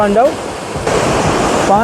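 The Saraswati river near Mana village, in the Mana Valley of Uttarakhand, rushes as a continuous broadband roar, loud and close, with someone talking at the start and the end.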